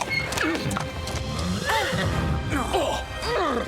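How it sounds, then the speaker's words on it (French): Several horses whinny and neigh in sharp rising-and-falling calls, repeated across a few seconds, with hooves clip-clopping underneath, close and loud, in an animated Zorro cartoon scene. "ce sont les chevaux"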